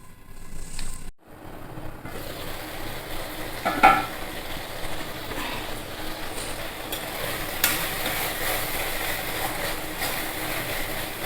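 Tomatoes and masala frying in a pan for a kakora vegetable dish, a soft steady sizzle with occasional stirring scrapes, quiet and continuous.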